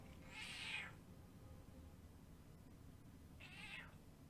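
Two drawn-out cat meows from a World of Warcraft character, one near the start and another about three seconds later, clear and alone over faint game ambience.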